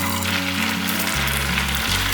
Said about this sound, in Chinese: 把豆腐放入油锅里面炸。